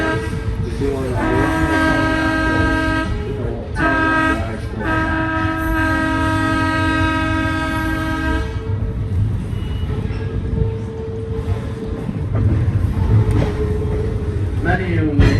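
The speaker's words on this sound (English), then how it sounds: "why we blow our horn way up here on the mountainside" A train horn blows in several loud, sustained blasts on a mountainside over the low rumble of a moving train, then the rumble continues alone.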